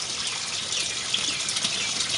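Water swirls and rushes steadily inside a 5 gallon bucket swirl filter, a continuous bright gushing wash with no pauses, fairly loud and close.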